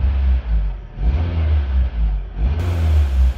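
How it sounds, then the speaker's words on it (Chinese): Toyota HiAce H100 van engine revving while parked, a coarse, breathy roar that swells and falls in several throttle blips, loud and close with no talk. "咱们停下来再给大家踩两脚啊，听听这个声儿，就是我口中经常说的金杯式声浪"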